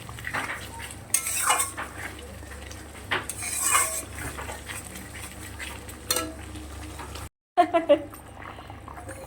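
A metal spoon scrapes and knocks against a pot while pomfret fish curry is sautéed, with irregular clanks and stirring scrapes up close, a low frying hiss beneath, and a voice speaking at moments.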